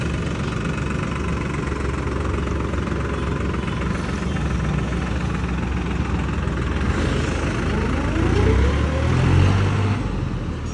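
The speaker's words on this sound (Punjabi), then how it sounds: "ਆਪਣੀ ਸੈਗਮੈਂਟ ਦੇ ਹਿਸਾਬ ਨਾਲ ਵਧੀਆ ਜ਼ੋਰ ਮਾਰਦਾ ਟਰੈਕਟਰ" A tractor with an inline-pump diesel engine runs close by in a steady, loud, rumbling idle with a knocking throb, rising slightly near the end as it revs, with no talk.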